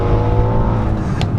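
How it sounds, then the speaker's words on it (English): A loud, deep bi-turbo V8 roar from a 2021 Mercedes-AMG GLE 63 SUV under hard launch-control acceleration, a continuous throaty exhaust blare close by with no talking. "the loudest exhaust note possible from this bi-turbo V8"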